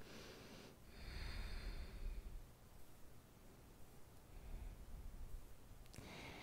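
During a yoga stretch, a person takes slow, deep breaths through the nose. Two long, soft, airy inhale-exhale cycles are heard close and quiet, with no talking.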